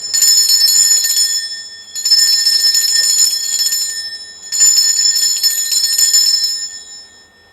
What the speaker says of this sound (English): I'm going to ring this bell in 3, 2, and in 1